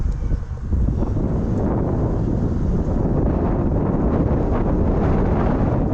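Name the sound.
strong wind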